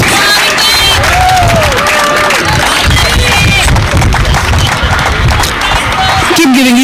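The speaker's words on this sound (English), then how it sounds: "Big round of applause for MSC Hurricanes." A crowd applauds and cheers at the award ceremony for a women's sports tournament final in Houston, loud and close, with people talking over the noise.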